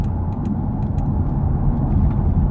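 An Audi TTS, a 2019 model, drives in comfort mode with a steady low engine and road rumble heard from inside the cabin. Faint higher ticks come and go, and no voices are heard.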